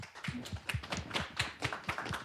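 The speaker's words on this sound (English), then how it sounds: "Join me in a round of applause" A small audience at a clean energy incentives speaker-series event gives a brief, quiet round of applause, a few hands clapping in a sparse, uneven rhythm.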